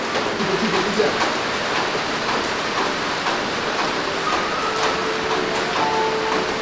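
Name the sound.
rain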